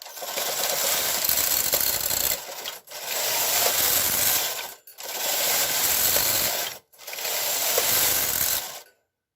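A KH940 knitting machine carriage is pushed across the bed again and again to knit rows. Four long, even passes of mechanical clattering and ratcheting, each about two seconds, are split by brief pauses. The sound is close and loud.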